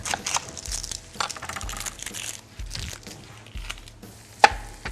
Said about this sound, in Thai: แล้วเราก็จะเหลือหอมใหญ่ครับ ที่เราต้องหั่นเขาหน่อย